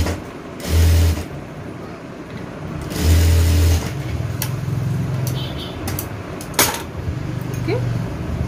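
An electric sewing machine stitches the shoulder seam of a blouse in two short bursts of loud motor whirring, followed by quieter hum and handling noises, with a voice faintly in the background.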